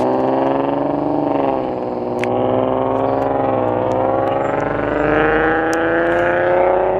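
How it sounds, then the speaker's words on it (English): A loud Peterbilt truck drives past on Rue Michel Jasmin in Dorval, Montreal, its heavy engine roar sustained and close for the whole stretch, with harmonic drone shifting slightly as it passes along the street. "is your freaking car loud enough? I could barely hear that freaking Peterbilt"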